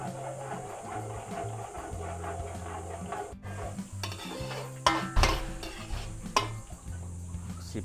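Garlic sizzles and is stirred in hot oil in a pan for pancit bihon, a steady soft crackle with scraping spoon strokes and a few louder clanks against the pan.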